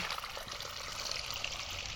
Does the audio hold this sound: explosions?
no